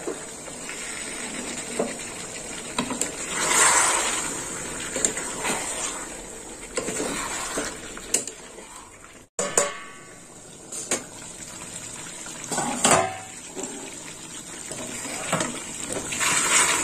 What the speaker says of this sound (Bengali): এই যে বাটি ধোয়া জলটাও দিয়ে দিলাম।